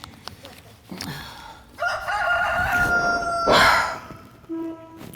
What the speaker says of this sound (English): Surely Noah can spare that rooster